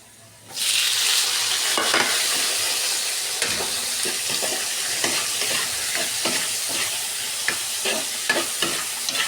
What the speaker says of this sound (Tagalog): Kaya nagisa lang ako ng sibuyas at ahos, bawang. Tapos ito, ilagay ko siya.